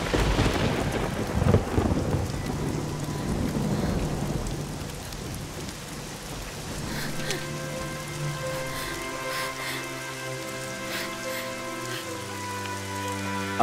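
Heavy rain and rumbling thunder fill a scene from the Korean zombie series All of Us Are Dead, loud at first and gradually settling as sustained musical tones rise beneath the downpour.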